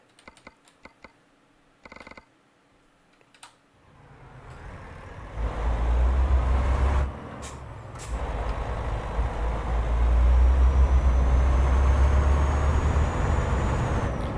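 A heavy open-pipe Scania truck engine in Euro Truck Simulator 2 rumbles low and steady, building in loudness after a few faint clicks and bumps at the start, with a brief dip midway.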